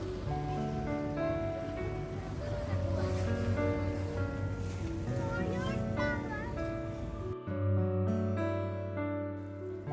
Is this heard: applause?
no